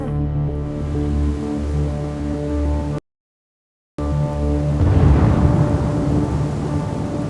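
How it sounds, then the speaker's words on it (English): Thunderstorm rolling in over a Florida cattle drive, with a steady roar of rain and low rumbling thunder swelling louder toward the end, broken by a brief silent gap. "on the cattle drive, a front of storms has arrived"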